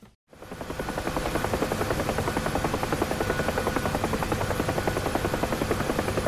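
UH-1H Huey helicopter in the DCS flight simulator, loud steady rotor thump with rapid rhythmic blade slap and broadband turbine roar, constant throughout with no talk.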